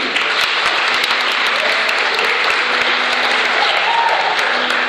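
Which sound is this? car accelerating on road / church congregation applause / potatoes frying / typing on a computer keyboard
church congregation applause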